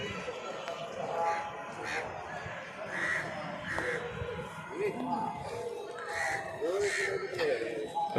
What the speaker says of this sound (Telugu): అలా పక్షులు స్వామివారి ఆలయ గోపురాలపై ఇలా విహరిస్తున్నాయి